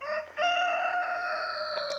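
Homestead chickens cluck and crow loudly and close by, a rooster-like call rising over steady barnyard clucking for the full two seconds, with no talk.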